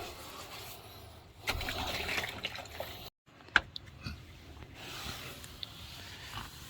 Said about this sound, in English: This drain, it's clear. I've been draining water out of it.